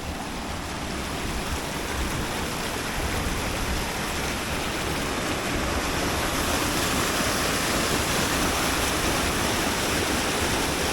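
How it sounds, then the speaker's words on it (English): A small waterfall in the Austrian Alps near Formarinsee rushes and splashes continuously close by, a dense, loud, unbroken roar of falling water. "we're gonna cross over a little waterfall now"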